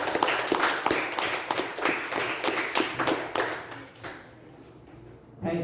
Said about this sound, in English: let us put our hands together to give a big round of applause